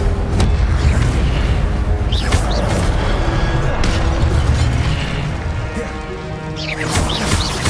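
Incendio fire spell cast in Hogwarts Legacy on Xbox Series X, loud whooshing bursts of flame and booming impacts layered over dense game effects, with a voice calling out the spell.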